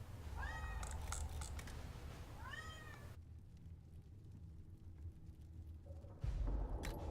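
A cat meows close by in several short rising calls, with faint game music and background noise underneath.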